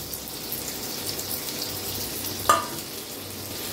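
A finely chopped half onion fries in hot oil, giving a steady close hiss and sizzle with one brief metallic clink partway through and no talking.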